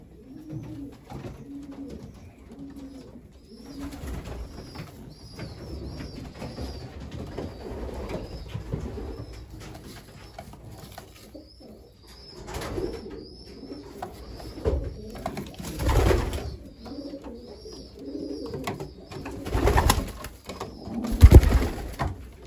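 Racing pigeons in a loft coo over and over in soft, throaty bursts, several birds close by, with occasional thumps and rustling as they shift about.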